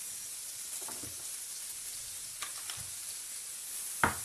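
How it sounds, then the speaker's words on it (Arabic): Meat frying in butter in a pan, a soft steady sizzle running throughout with a few brief stirring clatters and sharper pops near the end. "ضروري هذاك اللحم كيطيب غير في الزبده"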